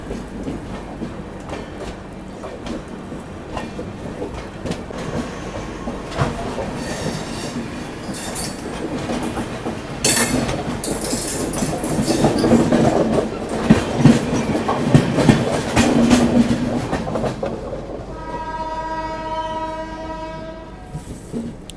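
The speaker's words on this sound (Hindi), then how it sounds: "और ये देखो केरला एक्सप्रेस जाते हुए" The Kerala Express passes at a crossing, heard from an adjacent train: rattling wheels and clacking rail joints build into a loud rushing roar midway, and a long horn blast sounds near the end.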